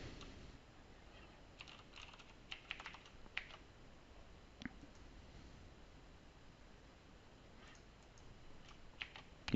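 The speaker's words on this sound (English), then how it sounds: "just let me enter in my tenant admin name" Someone typing on a computer keyboard while signing in to a Microsoft 365 admin account, with light, irregular key clicks that come in short bursts and scattered taps. The sound is quiet and close against a faint steady hiss.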